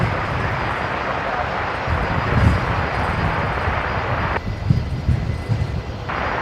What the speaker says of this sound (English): Just watching Qantas Link 171 Delta there, head off of 19 left.